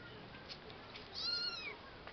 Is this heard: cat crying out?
yes